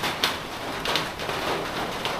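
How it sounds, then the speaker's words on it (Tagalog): Heavy rain pours down steadily, a dense broadband hiss with a few louder splashes of drops hitting a surface nearby, no talking. "Ang lakas ng ulan."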